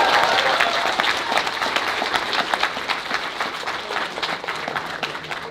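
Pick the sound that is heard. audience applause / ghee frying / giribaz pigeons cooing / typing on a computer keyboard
audience applause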